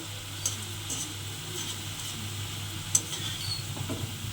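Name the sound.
bonde batter drops frying in oil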